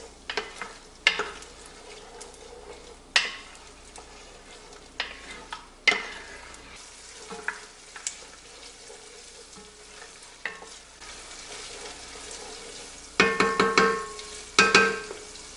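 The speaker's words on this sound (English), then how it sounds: "You can saute the garlic and onions for just a couple minutes before we add the rest of the veggies." Garlic and onions sautéing in a pan for minestrone soup, a quiet sizzle under intermittent stirring scrapes and spoon knocks against the pan, with a denser burst of clattering stirring near the end.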